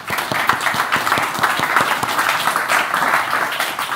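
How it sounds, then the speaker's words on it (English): Applause from a conference audience thanking a speaker at an EU-Africa research event, steady, fairly close clapping throughout the short stretch with some distinct individual claps. "Let's give him one last round of applause."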